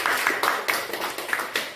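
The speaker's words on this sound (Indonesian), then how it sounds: "Ya, tepuk tangan dulu." A class clapping hands during a peer-teaching lesson, a short burst of quick, fairly loud claps from a group in a room.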